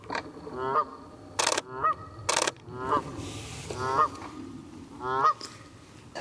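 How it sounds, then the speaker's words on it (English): Wild geese honking close by, a series of loud repeated nasal honks from several birds on both sides, irregularly spaced with brief pauses between calls and no talk. "So right now I've got geese on my left and on my right."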